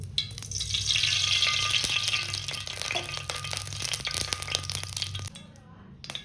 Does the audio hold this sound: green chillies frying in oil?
yes